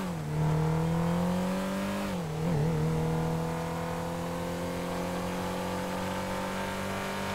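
In GTA 5 Online a car cruises with a steady engine hum that dips briefly partway through, then settles into an even drone. The sound is near and uninterrupted, with nobody speaking.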